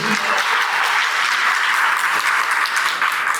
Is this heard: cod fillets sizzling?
no